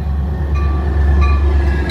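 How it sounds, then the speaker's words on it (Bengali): A local train entering Prospect Heights railway station, a steady loud low rumble of rolling stock with faint tonal whine above, continuous and close, no voices. "ট্রেনটি ঢুকছে, প্রসপেক্ট হাইটস রেলওয়ে স্টেশনে ঢুকছে"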